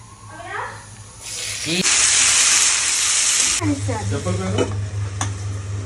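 Cumin seeds and chilli dropped into hot oil in a home kitchen give a sudden loud sizzle and hiss that holds steady for a couple of seconds, with someone talking before and after it.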